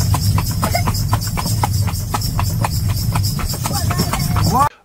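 Steady clip-clopping of a horse-drawn taxi's hooves on a hard road on a car-free Indonesian island, a brisk even rhythm close by over a low engine-like rumble, ending abruptly.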